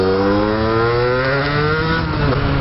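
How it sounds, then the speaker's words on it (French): A rebuilt engine that had previously seized runs just after starting, giving a steady, close, buzzing drone whose pitch rises slightly and then settles, with no voices. "Donc là j'ai filmé le démarrage, donc quand je redémarre le truc."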